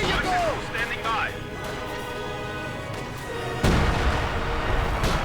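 Mortar fire and shell impacts in the video game Company of Heroes 2, a dense battle din with a heavy booming hit near the end, under ongoing commentary talk.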